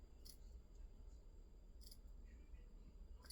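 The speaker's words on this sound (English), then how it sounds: "Thank goodness I sharpened these scissors." Freshly sharpened scissors snip through craft material during a DIY project, a few short crisp cuts spaced apart over a quiet, low background hum.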